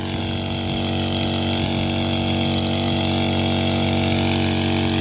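A small one-inch two-stroke engine drives a water pump, running steadily and loudly at close range with a constant buzzing drone from start to finish, no voices.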